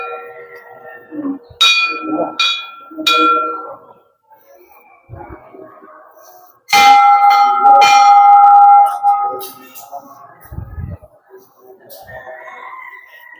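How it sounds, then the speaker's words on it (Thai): A temple bell at Wat Don Khanak in Thailand is struck several times, giving bright ringing strikes in a quick group and then a longer, louder ring that slowly fades, with voices chanting and talking around it. "เราจะต้องเคาะระฆังทุกครั้งที่ลงนะครับ"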